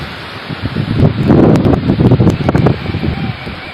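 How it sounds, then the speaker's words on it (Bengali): A Kalbaishakhi storm brings gusting wind and rain, a steady broadband rush that swells in the middle and eases slightly at the end, close and fairly loud with no talk. "এই সকালবেলা কাল বৈশাখী ঝড় এসছে।"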